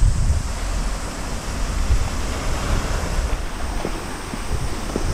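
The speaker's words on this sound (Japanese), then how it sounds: "さあぐるーっと見てみると目の前が海なんですよね。" Sea surf rolling in at a beach campsite in Toba, a steady wash of breaking waves with wind buffeting the microphone throughout, loud and continuous with no one talking.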